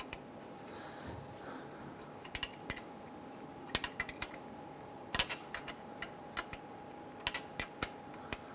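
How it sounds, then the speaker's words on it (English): Small metallic clicks and ticks come from a 5/16 wrench loosening a bolt on a 2002-2008 Dodge Ram 1500 rear axle, quiet and intermittent, in short irregular clusters over a faint background hum. "Using a 5/16 wrench, go ahead and loosen and remove this bolt."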